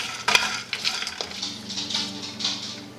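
Whole spices being toasted in a dry pan for homemade falernum liqueur, with soft sizzling, a sharp clink of metal on the pan near the start, then scraping and stirring rustles continuing steadily up close.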